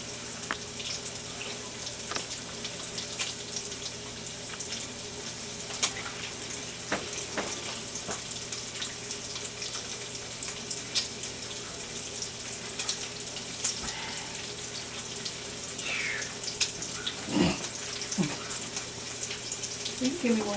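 A kitchen tap runs steadily, a broad hissing water stream that continues throughout at moderate level, with occasional clinks and handling sounds alongside.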